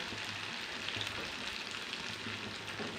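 Bonda batter drops into hot oil and fries with a continuous, even, close-up sizzle and fine bubbling crackle, with no talking.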